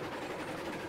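Steady rumbling rail noise from a train in Railroads Online as it works up a steep grade, a continuous broadband roll with faint clickety-clack, loud and even throughout with no talk.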